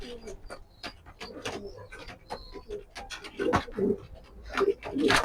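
Racer pigeons coo close by, giving repeated soft throaty calls over a busy background of wing flutters and light clicks. The cooing builds louder toward the end.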